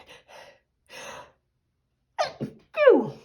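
A few quick breathy inhales lead into a loud, close sneeze, followed by a second forceful sneeze-like burst.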